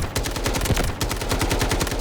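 Rapid automatic gunfire from a close-range weapon in the video game Delta Force, Season 7 Warfare mode: a dense, steady stream of loud, evenly spaced shots with no pause.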